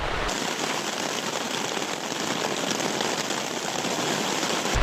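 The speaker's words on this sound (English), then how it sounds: "It's actually really cool sitting here in the tent and hearing the rain battering off it." Heavy rain drums steadily on a tent at night in the Mourne Mountains, a dense, continuous patter that stays loud and close without pause.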